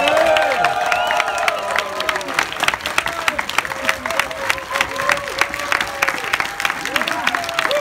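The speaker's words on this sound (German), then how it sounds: "Bitte einen kräftigen Applaus für die Legende Terence Hill." A live audience in Bochum cheers and applauds Terence Hill. Dense clapping and crowd noise fill the hall, with whistles and shouts rising over it and voices mixed in throughout.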